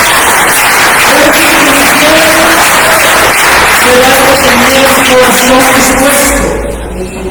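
A church congregation at a Sunday service applauds, loud clapping blended with cheering voices and some tonal shouts or singing, fading near the end.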